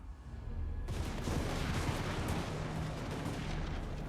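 Hand gunners fire in a snowy battle in Total War: Warhammer, a dense, continuous rumble of massed gunfire like artillery. It swells in suddenly after a quieter start and holds steady as a distant roar.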